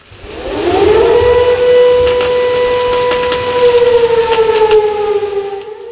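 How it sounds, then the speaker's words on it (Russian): A loud siren signalling one-minute readiness at a test stand winds up from low to a sustained wailing tone, holding steady for several seconds before beginning to fall away. "Сирена означает минутную готовность."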